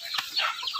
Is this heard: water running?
no